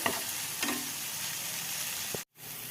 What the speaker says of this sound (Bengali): এখানে পেঁয়াজ আর টমেটোটা হালকা করে ভেজে নিচ্ছি